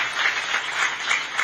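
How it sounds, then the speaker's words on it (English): A short burst of audience applause at the flag-off of Imo Digital City, steady and moderately loud clapping with rhythmic swells and no voices over it. "Can you please, a round of applause again for him."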